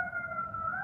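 A siren wails as a steady two-tone pitch, moderately loud and a little distant, over a low rumble, with no talk.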